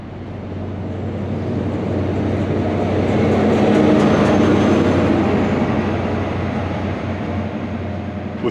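Train rumbling and clattering through Montrose station in Scotland, a broad steady roar that swells and then holds, close and loud with no talk.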